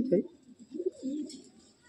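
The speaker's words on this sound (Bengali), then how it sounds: "দেখুন বন্ধুরা, যে লাম্বার্ডি পেয়ারটা শখ করালাম, তার নটটা, একটা নর পায়রা" A male Lombardi Andhra pigeon gives soft, low coos in a few short bursts, faint and close, with a voice speaking over it.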